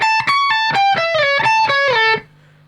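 A distorted electric guitar plays a quick run of separate picked notes stepping through a 7th-chord arpeggio, each ringing briefly, ending on a sustained note that fades.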